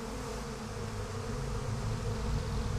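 Dense, continuous buzzing of many bees in the video game Psychonauts 2, loud and close, droning steadily with no voices.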